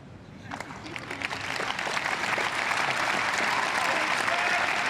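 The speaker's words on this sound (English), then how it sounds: "Maguire's family led the cheering as the gold medal went to Great Britain." Paralympic crowd cheering and applauding a Great Britain gold medal win in boccia at the Paris 2024 Games, the applause swelling from a scattered start into sustained loud clapping and cheers.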